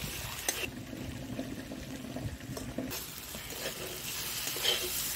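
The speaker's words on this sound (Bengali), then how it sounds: "বেটে রাখা এই যে কাজু আর চাল মগজ দিয়ে নাড়িয়ে নিচ্ছি।" Ground cashew and melon seed paste stirred in hot oil in a pan, a steady soft sizzle with faint scraping strokes, close and continuous, with no talking.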